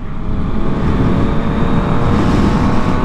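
Yamaha MT-09 motorcycle engine running at a steady, loud, low rumble close to the microphone, holding a constant roar with no clear rise or fall throughout.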